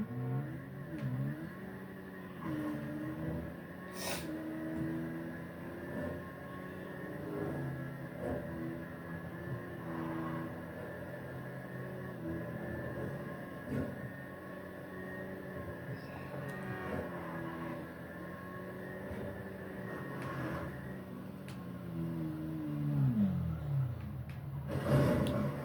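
A motorcycle engine revving through a front-wheel test, rising and falling in pitch across repeated throttle pulls, moderately close, with a final surge and drop at the end.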